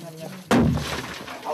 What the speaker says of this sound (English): The sound you just heard is literally the cracking of the earth as pressure is released.